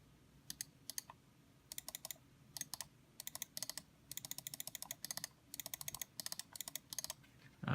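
Button clicks on a Finalmouse Scream One Second Edition gaming mouse, sharp and close, tapped in quick pairs and bursts with short pauses between, alone and fairly quiet.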